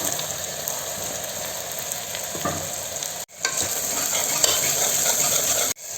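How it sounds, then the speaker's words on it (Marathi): Onions fry in hot oil with a loud, continuous close sizzle and crackle, broken by two brief dropouts, with no voices. "कांदा चांगला परतून घ्यायचा"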